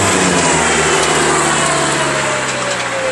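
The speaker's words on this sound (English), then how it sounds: "you go up with the RPM and you start the chipper" Engine of a 19-inch wood chipper revving up, a loud, close, steady roar with a rising whine as the RPM climbs.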